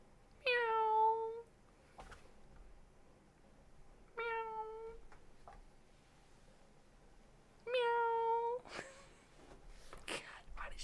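A voice imitates a cat's meow three times: drawn-out, whiny meows separated by pauses, with faint clicks and breathy sounds between them, close and clear.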